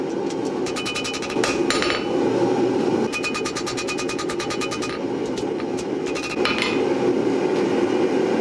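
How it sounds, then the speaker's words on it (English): Hammer forging bevels into a parang made from a farrier's rasp: bursts of rapid, ringing metallic blows on steel, in quick repeated runs with short pauses, close and loud over a steady background hum. "Now I'm going to start forging in the bevels."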